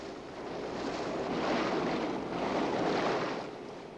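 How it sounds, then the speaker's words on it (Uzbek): Foaming sea waves churn and wash in a steady, full roar, swelling and easing gently, with wind noise blended in and no voices. "Bu orada jasur operator Jacques Renoir dengizning ko'pirgan to'lqinlari uzra muallaq osilib turadi."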